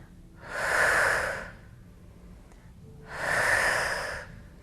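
Two slow breaths during a foam roller workout, each a soft airy whoosh lasting about a second, spaced a couple of seconds apart, close and quiet with no talking.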